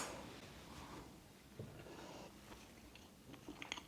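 Someone eats Austrian chopped pancakes, Kaiserschmarrn made with spelt flour and oat milk, with faint, close chewing and soft mouth sounds and a few small clicks of cutlery near the end.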